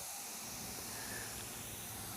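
Astro Pneumatic Euro Pro HE spray gun laying car paint during collision body repair, giving a steady, unbroken airy hiss that stays fairly quiet throughout.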